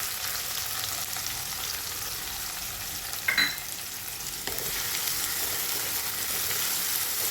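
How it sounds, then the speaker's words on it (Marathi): Two large sliced onions with green chillies sautéing in a pan, a soft steady sizzle with a brief scrape of stirring midway, fairly quiet and without talk. "आता कांदा छान असा सर्व हे असं परतून घ्यायचं"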